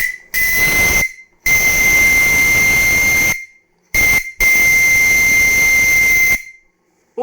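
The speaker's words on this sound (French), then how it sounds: "Et là, le sifflet, pas de problème." A loud steam whistle on a small steam launch blows in several long shrill blasts separated by brief pauses, with a hissy edge, at about 3 bar pressure, close and alone.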